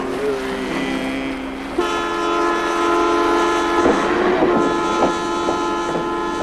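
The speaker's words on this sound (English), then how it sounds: "the transcontinental train to Montreal that was part of the Canadian Railway legend" A transcontinental passenger train bound for Montreal rumbles along with a sustained horn tone sounding over the rolling noise, and a few clanks and knocks come through near the end.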